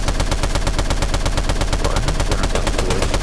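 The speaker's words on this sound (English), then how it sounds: "Who is spamming their gun like that?" A gun in Fortnite fires in a rapid, unbroken stream of evenly spaced shots, loud and close, heard alone without talk.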